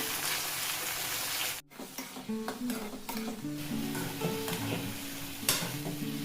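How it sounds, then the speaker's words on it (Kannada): Chopped brinjal and onion hit hot oil in a pan with a steady sizzle, followed by repeated scraping and clinking strokes of a spoon stirring the vegetables, close and continuous. "ಹೆಚ್ಚಿಟ್ಕೊಂಡಿರುವಂತಹ ಬದನೆಕಾಯಿ ಮತ್ತು ಉಳ್ಳಾಗಡ್ಡಿ ಎರಡೂ ಒಟ್ಟಿಗೆ ಹಾಕೋತೀನಿ"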